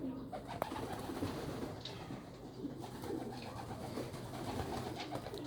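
Soft, low cooing of pigeons or doves repeats over steady outdoor background noise, moderately distant with no talking.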